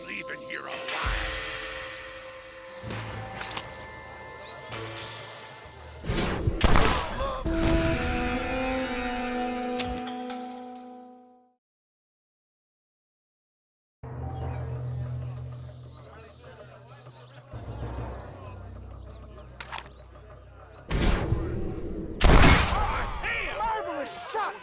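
Gunfire in the western video game Red Dead Redemption comes in several loud sharp shots and volleys over game sounds and voices, broken by a few seconds of silence.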